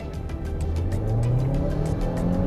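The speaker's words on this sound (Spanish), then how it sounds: "Ahora sé que ustedes quieren ver la aceleración de este SUV" A Changan CS35 Plus Turbo SUV accelerates at full throttle in Sport mode, its engine note rising steadily and loudly up through the revs from start to finish, heard from inside the cabin with no talk.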